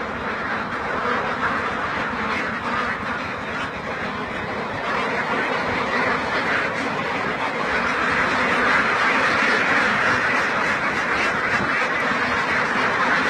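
A dense flock of egg-laying ducks, about 2,600 birds on a duck farm, quacking continuously, many overlapping calls forming a loud, steady chorus close by.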